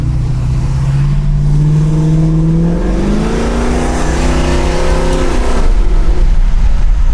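A 1970 Pontiac Firebird V8 on a two-barrel carburetor accelerates hard in traffic, its loud engine note climbing steadily through the revs close to the microphone, with a rising whine as it pulls.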